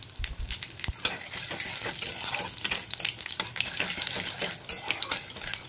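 Whole dried red chilli, cinnamon, cloves, cracked cardamom and asafoetida crackle and sizzle in hot oil in a home kitchen, a steady close frying hiss with sharp pops and a few knocks near the start.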